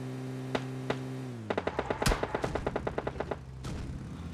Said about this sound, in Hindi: तो फिर आपने वो आवाज़ सुन ली होगी फायरिंग की।